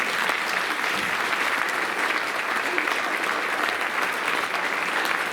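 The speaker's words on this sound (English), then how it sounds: "Please give a round of applause to the parents." An audience at an elementary school band concert applauds the parents; dense, steady clapping fills the room for about five seconds, loud and close, with faint crowd murmur beneath.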